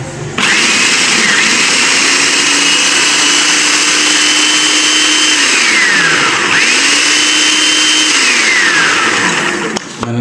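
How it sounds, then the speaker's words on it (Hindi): An electric kitchen grinder whirs loud and close as it grinds fried onions with a spice mix, running in two long bursts with a brief dip in motor pitch between them before it stops. "शामिल करके अब मैं इसको ग्राइंड करने जा रहा हूँ और हम इसको ग्राइंड करते हैं।"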